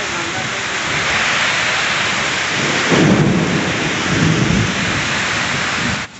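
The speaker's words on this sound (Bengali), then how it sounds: "দেখেছো কি জোরে বৃষ্টি হচ্ছে?" Heavy rain pours down steadily in a dense, loud roar, with deeper rumbles of thunder swelling in the middle during a thunderstorm.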